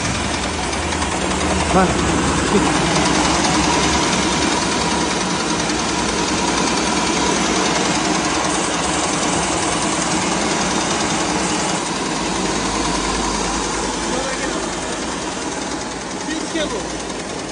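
A motorised paddy rice hulling machine runs steadily throughout with a dense, continuous mechanical drone and rattle, close and loud, while someone talks over it.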